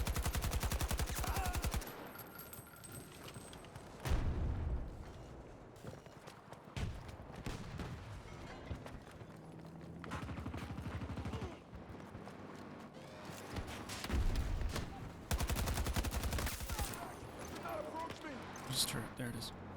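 Gunfire in Battlefield 2042, bursts of automatic fire and loud shots recurring throughout under someone talking, with heavy in-game battle noise filling the background.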